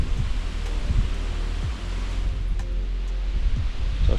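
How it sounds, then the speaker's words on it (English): Incessant wind blows on the bank of the River Ouse during a mullet fishing trip, producing a steady, loud low roar with gusty buffeting against the microphone and no speech. "this is quite an incessant wind"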